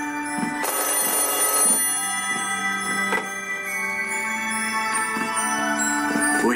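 A telephone rings with a bright, electronic trill in repeated bursts, moderately loud indoors with no talk over it.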